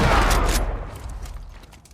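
Gunfire in The Last of Us: a loud, dense burst of shots and a blast in the first half-second, then a rumbling, decaying tail with faint mechanical clicks.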